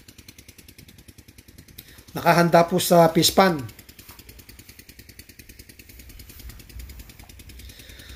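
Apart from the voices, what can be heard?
engine idling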